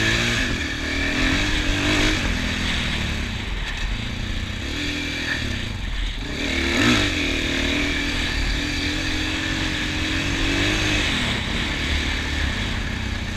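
A 2024 Husqvarna FE501s dirt bike with an aftermarket ECU is heard while riding, its engine loud and close, rising and falling in repeated revs throughout with no talk.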